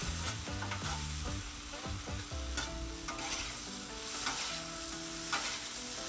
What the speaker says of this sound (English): So you stir them up, and look at the color on the bottom parts already.